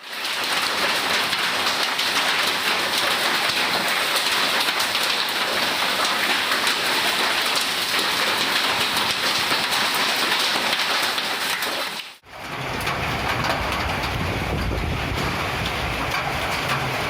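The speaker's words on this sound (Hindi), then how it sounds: "पातुर तहसील में पिछले 1 महीने में छठी बार ओलावृष्टि के साथ तूफानी बारिश हुई।" Stormy rain with hail pours down steadily in loud, dense hiss across a long stretch, broken by a brief cut before the downpour resumes.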